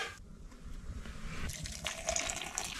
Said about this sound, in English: I use the rest of the boiling water to thaw out my water bottle.